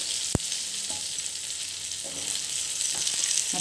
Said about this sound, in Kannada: 2 ಸೈಡನ್ನು ನೀಟಾಗಿ ಫ್ರೈ ಮಾಡ್ಕೋಬೇಕು.